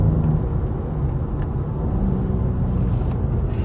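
A BMW M2 Competition engine rumbles steadily from inside the cabin, a low continuous drone with a slight rise in power under light throttle.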